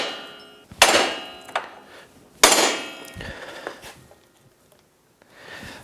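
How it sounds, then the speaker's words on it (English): Hammer blows against an axle nut on a Yamaha YXZ1000R hub during wheel bearing replacement, two loud sharp metallic strikes followed by softer knocks, close and without talk. "I can swing the hammer to hit the nut, and hopefully this will give me enough distance where I can hit it hard enough to shock it loose"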